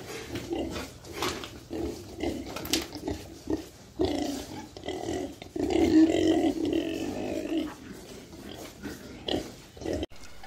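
Sick pigs in a pig pen grunting and groaning continuously, a rough, close chorus of low animal sounds with no talking.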